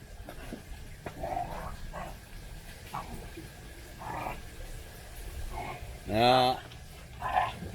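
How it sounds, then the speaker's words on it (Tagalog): Three pet dogs at play at home make faint scattered sounds and one loud, clear bark near the end, amid ongoing talk. "Ayun 3 aso ko eh oh. Yun, sige naglalaro sila."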